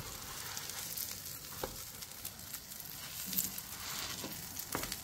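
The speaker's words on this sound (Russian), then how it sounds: "Вот так они потихоньку, наши сырнички, жарятся." Syrniki, cottage cheese pancakes, fry gently in oil in a pan, giving a soft, continuous sizzle scattered with small crackles and pops.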